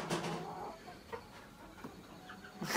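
Live chicken clucking before slaughter, with a few short, soft clucks and rustling over a steady background of noise.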